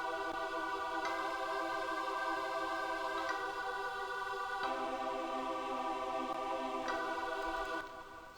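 Choir pad layered over brass chords in an FL Studio dirty south trap beat, sustained harmonic voices shifting chords every second or two, loud and unbroken, fading at the very end.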